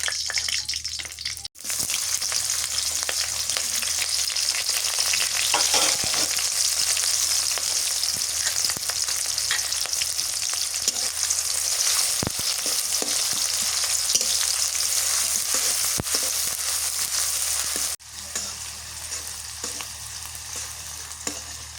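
Whole spices (bay leaf, garam masala, cinnamon and cloves) sizzle in hot oil in a pan while cooking chicken, a steady loud frying hiss that runs nearly unbroken, with brief dips where stirring interrupts it.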